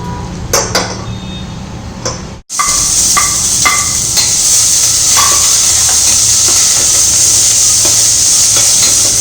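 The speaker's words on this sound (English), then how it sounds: "When this gets heated, let's add onion first." A few clinks and taps sound first. Then onion hits hot ghee in a pan and sets off a loud, steady, close hiss of frying, broken by occasional utensil knocks.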